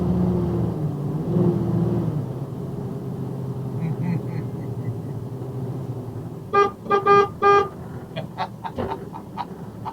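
A vehicle horn honks several times from a car driving past on a street corner, a cluster of loud toots rising late over steady traffic rumble and low road noise.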